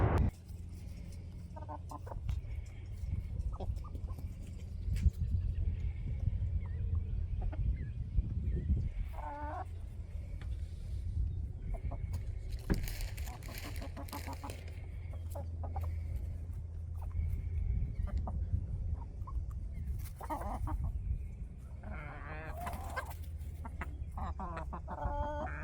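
A backyard flock of chickens clucks and squawks on and off, with several hens calling near and far in short bursts over a steady outdoor background.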